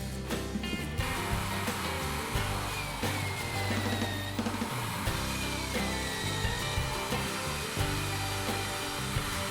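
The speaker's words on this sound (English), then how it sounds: "Now I'll machine the pieces for the small wheel." A lathe runs continuously while machining a hole for bearings in a wheel piece, giving a loud, steady whir with faint scraping cutting noises on top.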